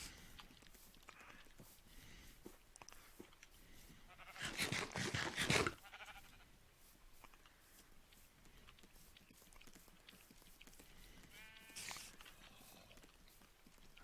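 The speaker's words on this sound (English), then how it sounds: "That dang spire goat's hitting me." Minecraft goat bleating in a video game, a loud burst of roughly a second partway through, with a fainter second call near the end over quiet game ambience.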